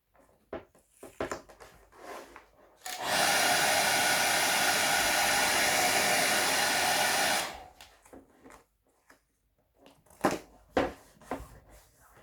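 Heat gun warming carbon-look wrap film on a motorcycle fairing: a steady blowing roar held for about four seconds, loud and close, framed by soft handling rustles and taps before and after.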